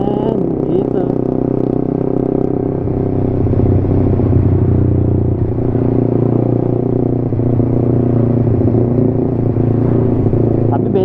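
A Suzuki GSX-R 150 motorcycle engine hums steadily at speed in fourth to fifth gear while the rider eases the throttle to shift, with someone talking over the constant engine drone.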